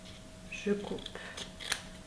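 Scissors snip the corners of folded paper for a scrapbook album, a few short crisp cuts close by with soft handling rustle between them.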